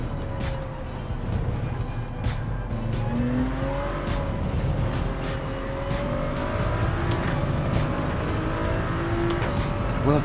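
In Gran Turismo 7, a Toyota Supra race car drives hard, its engine droning loudly and continuously while gliding tire squeals rise and fall as it corners.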